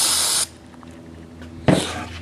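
Cleaner sprayed onto a rag while replacing the coolant flange on a 2004 Audi A4, two distinct hissing bursts, a long one at the start and a shorter one near the end, close and loud with quiet between.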